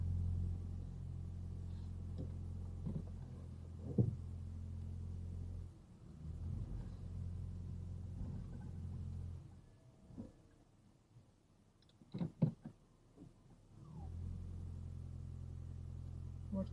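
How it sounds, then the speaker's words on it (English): A hybrid car engine idles with a low, steady hum that fades almost to quiet in places before resuming, with a few soft clicks in between. "This is a hybrid car."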